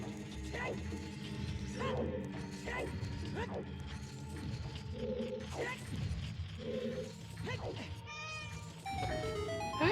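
A pet cat meows several times during a video game tournament stream, its short calls rising and falling close by under ongoing commentary and game sounds.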